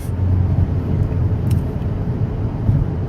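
A Chevy Cruze 1.4L turbo drives at wide open throttle up a slight incline on a road in Mexico. Its engine and road noise hum in a steady, continuous low drone from inside the car, with no talking.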